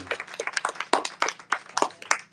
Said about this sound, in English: give Anna and Maurice a thunderous round of applause